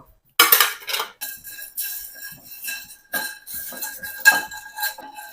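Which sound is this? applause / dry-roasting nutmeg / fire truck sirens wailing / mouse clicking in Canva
dry-roasting nutmeg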